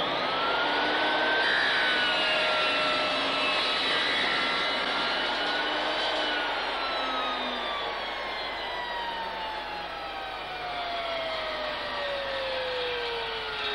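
A Triton table saw blade spins down after being switched off mid-cut, a loud, steady broadband whir whose pitch slowly falls over about fourteen seconds, with no talking.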